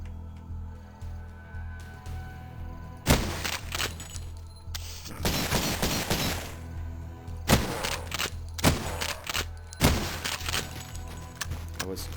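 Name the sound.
gunfire in the video game Cultic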